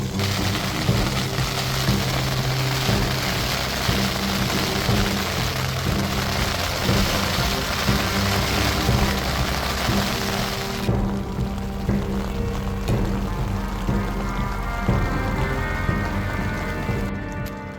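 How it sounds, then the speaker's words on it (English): Rain falling on a tent during a camping road trip in Canada, a steady close patter and hiss on the fabric that changes character partway through but keeps going throughout. "It's still raining, so we're just chilling in the tent still"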